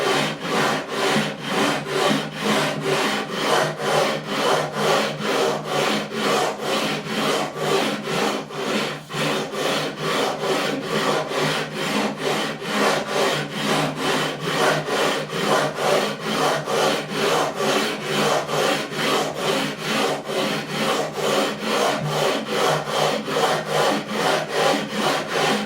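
Guitar frets on a Japanese-made Aria LW12HB being levelled with old sandpaper on a leveling beam: steady, rapid back-and-forth rasping strokes in an even rhythm, close and continuous with no talking.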